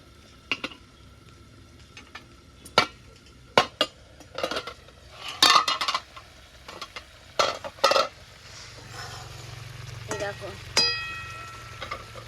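The lid comes off a pot of masoor dal cooked with fish oil. There are several sharp metallic clanks and scrapes of lid and utensils, irregularly spaced and close by, then a soft simmering hiss.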